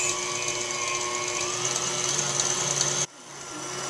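Thickened flan mixture is whisked in a bowl with a steady, close whirring buzz that holds evenly for about three seconds, then cuts off abruptly and leaves a quieter background.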